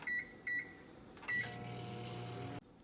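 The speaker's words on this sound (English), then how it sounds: "we're going to take our bowl of water and we're going to put it in our microwave" Three sharp electronic beeps from a microwave oven, then a steady low hum as it runs and heats a bowl of water, stopping abruptly with a click near the end.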